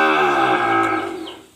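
A single loud, close moo from a cow at a cattle market, one drawn-out low call that fades away over about a second and a half.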